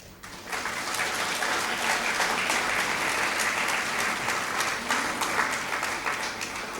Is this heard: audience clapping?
yes